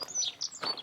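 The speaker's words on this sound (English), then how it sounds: "The little birds behind us, chirping away." Small birds chirp in quick, bright tweets close by outdoors near Southerness lighthouse in Scotland, a brief burst of several high calls.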